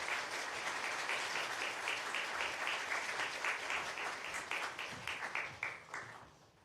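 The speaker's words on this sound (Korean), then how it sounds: "큰 박수로 환영하겠습니다" Sustained applause from a church congregation in a Korean Baptist Sunday worship service as the pastor is welcomed to the pulpit, a fairly quiet, even wash of many clapping hands that thins into scattered claps and fades at the end.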